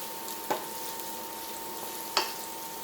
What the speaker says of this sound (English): let me stir my veggies a little bit, because they're coming along nicely